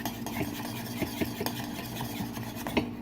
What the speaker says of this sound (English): put the spoon back on an angle, get more surface area stirring this